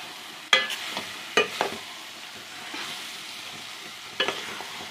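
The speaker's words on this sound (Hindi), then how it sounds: "2-3 मिनट इसको भी भून लेंगे हम" Minced keema, peas and kachnar buds fry together in a pan under a gentle sizzle, with a few sharp scrapes and clinks of a spoon spaced seconds apart.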